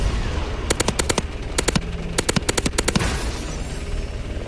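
Vulcan machine gun fire in the Advanced Warfare video game: several rapid bursts of sharp, loud gunfire in quick succession, with brief gaps between volleys over a rumbling battle background.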